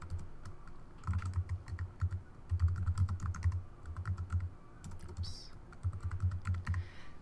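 Fingers type on a computer keyboard nearby in quick bursts of clicky keystrokes separated by brief pauses, with steady room hum underneath and no voices.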